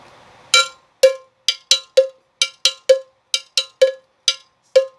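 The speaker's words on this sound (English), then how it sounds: "the bongo player starts to play the cowbell like this." A salsa bongo player strikes a hand cowbell in a steady rhythmic pattern: about fourteen sharp, bright metallic clanks, close and loud, with a faint hiss before the first hit.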